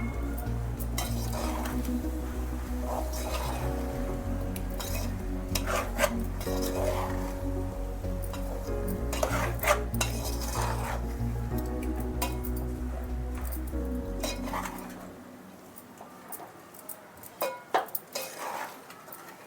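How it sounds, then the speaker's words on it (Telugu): Coriander and cumin powder stirred into a batter for ugga bajji in a bowl, with soft repeated clinks and scraping of a utensil against the bowl, steady and close, fading at the end. "కొద్దిగా ధనియా పొడి కొద్దిగా జీరా పొడి ఇది కలిపేస్తాం"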